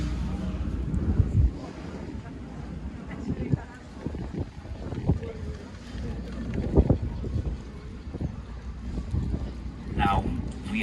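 A tour boat on a guided canal trip in Copenhagen passing under a bridge, a steady low engine rumble and water noise with wind buffeting the microphone, under people talking nearby.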